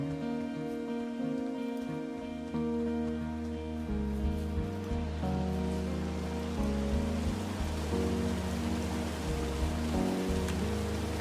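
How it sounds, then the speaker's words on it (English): A steady wash of rushing water from a waterfall in Firewatch, constant and fairly soft, with layered game music playing over it. "It's a really nice waterfall down here."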